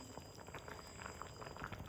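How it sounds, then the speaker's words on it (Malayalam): Cauliflower pieces simmer in thick Gobi Manchurian gravy, a faint, soft and steady bubbling with small pops close by. "ഇത് ഈ ഗ്രേവിയിൽ കിടന്നിട്ട് തിളയ്ക്കാൻ തുടങ്ങിയിട്ട് കുറച്ച് നേരമായിരുന്നു."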